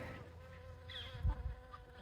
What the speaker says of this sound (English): Hello, little bee.